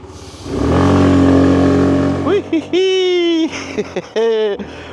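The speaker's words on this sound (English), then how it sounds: "Riding the little Daytona Flert 110cc." A Daytona Flert 110cc scooter pulls away with a steady, close engine drone that builds for about two seconds, then drops back as a voice talks over the quieter running motor.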